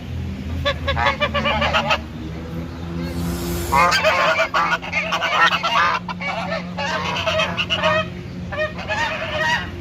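Geese honking loudly and repeatedly nearby at a bird park, harsh overlapping calls in bursts over a low steady hum.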